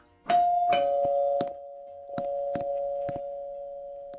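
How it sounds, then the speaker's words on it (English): A two-tone electronic doorbell chime in a Roblox game rings out loudly, followed by several soft knocks and clicks, with a steady tone humming underneath throughout. "I think this is a doorbell."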